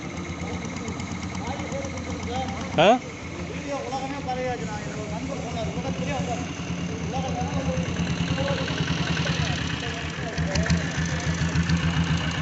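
A diesel motorcycle engine, a modified Bullet, idles steadily with a low, rumbling knock throughout, joined by a brief sharp clack and faint voices in the background.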